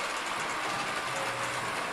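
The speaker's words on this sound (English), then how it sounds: "as soon as that train goes over the acceleration sensor" An S-gauge model train runs along its track with a steady, continuous mechanical whir and light rail rumble, fairly close and without talk.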